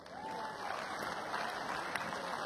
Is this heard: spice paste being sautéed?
no